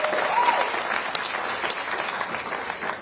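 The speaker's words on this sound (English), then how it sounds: "we can clap for the childcare providers." Applause from an audience at a mayor's press event, honouring childcare providers, a sustained wash of clapping with scattered louder claps and brief murmured voices near the start.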